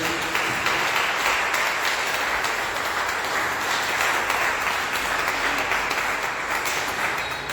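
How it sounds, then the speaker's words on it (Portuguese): A church congregation applauds loudly and continuously, a thick, even wash of many hands clapping that holds steady from start to finish. "quem pode dar uma salva de palmas bem alegre para Jesus?"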